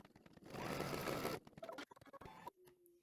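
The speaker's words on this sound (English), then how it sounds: "So we just stitched that placement line right along here" An embroidery machine stitches a placement line on fabric with a short burst of fast, whirring stitching, then scattered clicks and taps as it stops, fairly quiet and close.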